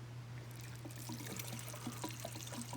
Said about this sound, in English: we just need to add a little bit of gas, see if it runs